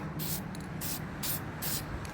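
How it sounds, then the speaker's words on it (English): Short hissing bursts of aerosol spray, four quick sprays in a steady rhythm over a faint background hum. "I'm hogging the spray can here."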